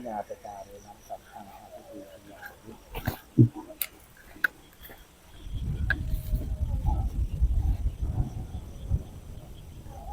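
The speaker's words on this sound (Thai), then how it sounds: "ท่านผู้ชมจะได้ยินเสียงหมาหอนอยู่ไกลๆเลยนะ" A dog howls far off at a quiet rural temple, thin and drawn out, followed by a louder rumbling bed of low noise and scattered clicks while people murmur nearby.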